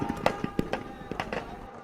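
Fireworks crackle and pop during a Dussehra Ravana effigy burning in Jabalpur, with a quick irregular string of sharp bangs that sound moderately distant.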